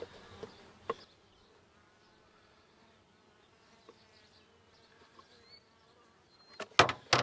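Mountain Grey Caucasian honeybees buzzing steadily and faintly at a hive with a syrup feeder, a thin continuous drone with louder knocks and handling noises near the start and end.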